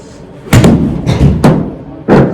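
A ball strikes and rebounds off a practice screen in about four sharp, loud thuds spaced roughly half a second apart, close by with no talk.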